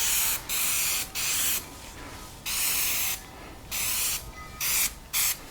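Aerosol spray is hissed onto a DIY car door trim panel in about seven short, loud, close bursts separated by brief pauses.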